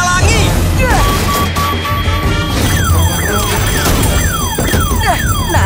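A car alarm wails in loud, repeated falling sweeps, following a burst of crashing and clattering, with a voice in the mix.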